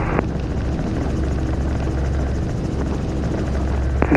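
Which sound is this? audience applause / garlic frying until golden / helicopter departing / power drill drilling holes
helicopter departing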